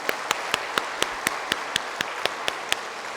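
About a dozen evenly spaced single claps sound at a steady beat in a church service, sharp and fairly quiet with soft room noise between them, more like one rhythmic clapper than a full congregation.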